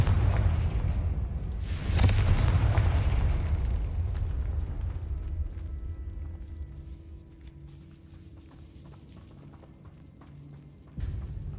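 A Confringo spell blast in the Hogwarts Legacy video game lands as a bright burst followed by a deep rumbling roar that slowly fades over several seconds, with a low ambient hum and a faint thump near the end.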